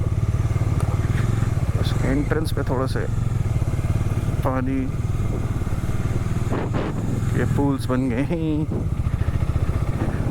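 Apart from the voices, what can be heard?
motorcycles riding at Throttle Fest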